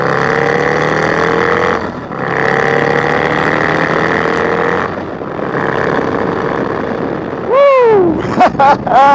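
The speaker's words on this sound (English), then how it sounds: "The sound of this turbo, man." A turbocharged 131ci Harley Street Glide Special motorcycle engine drones steadily under riding wind, dipping briefly twice, then gives way to rising and falling whines near the end, loud and close.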